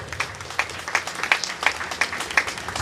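A graduation audience gives the Parent Association a round of applause, a modest group clapping in a steady, rhythmic pattern at moderate distance, with no speech over it.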